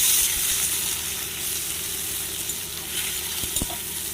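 Tomatoes frying with onions in mustard oil, a steady dense sizzle with some stirring scrapes, close and continuous throughout with no talking.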